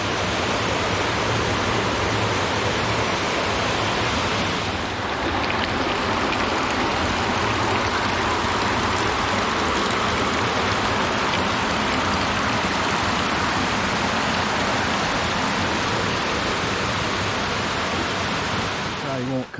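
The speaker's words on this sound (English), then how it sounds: "Got some cool waterfalls in this park." Waterfalls in a park along a hiking trail roar in a dense, constant rush of falling water, loud and close, holding steady with no letup.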